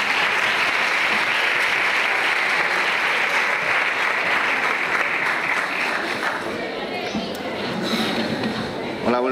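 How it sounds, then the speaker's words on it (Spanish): A large audience applauds loudly and steadily at a school film awards ceremony on stage, the clapping dense and sustained, thinning slightly toward the end. "Fuerte aplauso, por favor."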